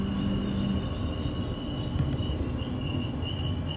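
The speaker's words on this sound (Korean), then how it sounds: "열차는 마지막 역인 영주역에 도착합니다." Train rumbling steadily as it pulls into Yeongju station on the Gyeongbuk Line, a continuous low rolling drone with faint high wheel squeal and a brief tonal hum near the start, fairly close and with no talking.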